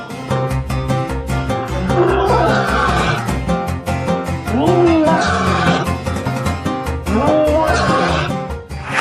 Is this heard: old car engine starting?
no